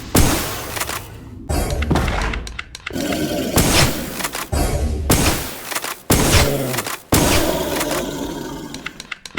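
Repeated loud bursts and thuds in an action video game as thrown grenades explode, several heavy booms separated by brief pauses, close and punchy.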